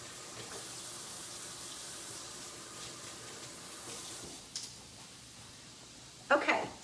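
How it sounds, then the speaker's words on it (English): A kitchen tap runs in a steady, soft hiss for hand washing, with a brief splash near the end as the hands go under the stream. "Let me wash my hands off."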